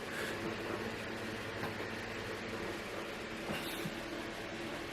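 A Rapido GWR 44XX Small Prairie model steam locomotive runs along model railway track with a steady, faint mechanical whir and light rhythmic clicking of wheels over rail joints.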